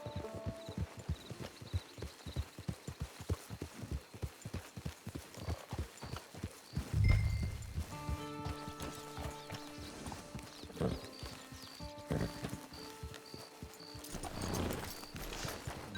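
Rhythmic clip-clop of horse hooves trotting steadily in Red Dead Redemption 2 Online, with a brief thump midway and soft musical tones in the background.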